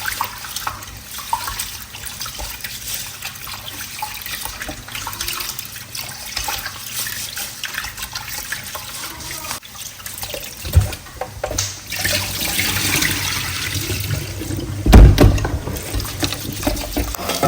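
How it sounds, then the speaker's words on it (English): Locally grown rice is washed in water for a coconut beef rice dish: continuous sloshing and running water, close and fairly loud, swelling louder and splashier in the second half, with no talking. "We'll go ahead and then start to wash our rice."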